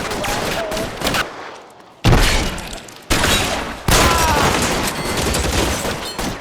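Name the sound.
gunfire in the video game L.A. Noire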